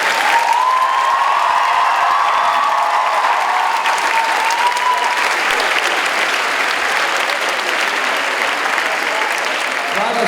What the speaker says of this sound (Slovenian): Z velikim aplavzom, to se potem snimki vidi.